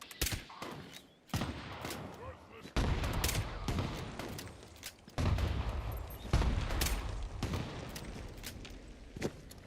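Video game gunfire comes in sharp, repeated bursts, some rapid like automatic fire, with quieter gaps between them and occasional speech.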